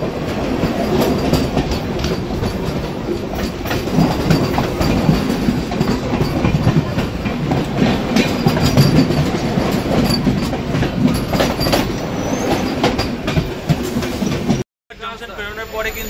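From aboard the Saraighat Express near Rampurhat Junction, the NJP-Howrah Vande Bharat Express rushes past on the next track with a loud, close roar and rapid clickety-clack of wheels, cutting off abruptly near the end.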